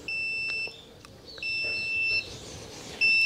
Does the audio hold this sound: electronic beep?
yes